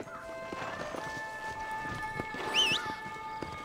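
Rhythmic hoofbeats pound steadily as a horse gallops in Red Dead Redemption, with a snort near the end over a sustained musical tone.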